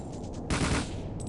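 A sniper shot cracks in 007: The World Is Not Enough on the Nintendo 64, a single sharp, loud burst amid faint background game noise, with no talking.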